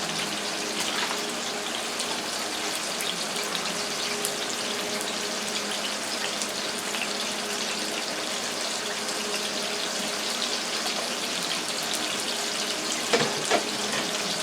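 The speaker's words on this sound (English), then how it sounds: "hold it like this, and pour it over the sink and pour it out" Water drained from cooked vegetables pours steadily into a sink for a long stretch, a continuous rushing splash, close by, ending with a couple of clunks near the finish.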